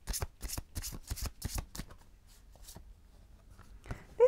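A deck of True Love Oracle cards is shuffled by hand in quick riffling bursts, crisp and close, then trails off into quiet with a few soft taps.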